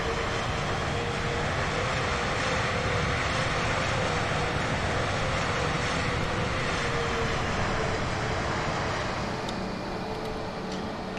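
Airliner engines idling at a jetway in Microsoft Flight Simulator, a steady broadband turbine roar with a faint tonal whine, continuous and even throughout, no voices.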